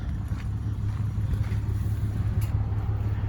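Traded-in auction car idling after half an hour of running, a steady low engine hum with a constant even drone, heard up close with no talk.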